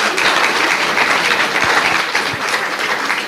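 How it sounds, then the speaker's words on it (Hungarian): A lecture-hall audience at a talk in Cluj applauds, a dense, loud, continuous wash of many hands clapping together for a few seconds without speech. "Taps!"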